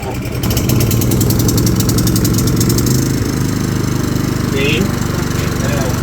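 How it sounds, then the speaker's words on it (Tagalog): A backup generator engine turns over and settles into a steady, loud running drone that fills the whole stretch without pause. "Yung generator dapat tayo mag-start."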